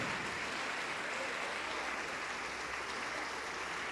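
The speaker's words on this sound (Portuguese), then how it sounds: "Vamos aplaudir mais, igreja, vamos aplaudir mais." A church congregation applauds in a steady, even wash of clapping that lasts throughout, fairly faint and distant, with no voices standing out.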